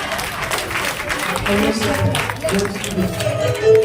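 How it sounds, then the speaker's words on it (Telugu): A church congregation claps together during a Telugu sermon, with a broad wash of applause and a low tonal hum underneath, holding fairly steady throughout. "చప్పట్లు కొడదాం"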